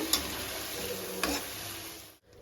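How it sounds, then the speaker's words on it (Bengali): Bengali spice paste for jackfruit and prawn curry is stir-fried in a pan, giving a steady close sizzle broken by two sharp scraping strokes of the spatula, then cutting out abruptly near the end. "এবারে এই মশলাটা আমি পাঁচ মিনিটের মতন ভালো করে কষিয়ে নেব"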